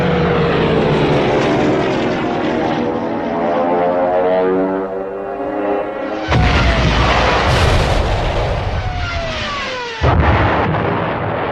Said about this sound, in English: But without any reinforcements or aerial support, the French tanks become prey to the Stukas.